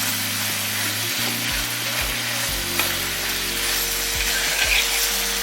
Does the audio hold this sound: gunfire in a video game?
no